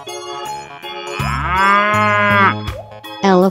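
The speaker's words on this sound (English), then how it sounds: "Cow." A cow moos loudly in a long, drawn-out low call lasting a couple of seconds, followed by a shorter, higher second call, heard alone with no talk.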